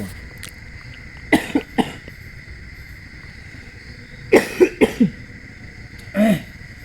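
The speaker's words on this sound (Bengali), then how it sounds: "আমার নিজের একটু ঠান্ডা কাশি হয়েছে" Person with a cold coughing, several short harsh bursts in two clusters with a throat-clearing rasp near the end, close and loud over a quiet room with faint background hum.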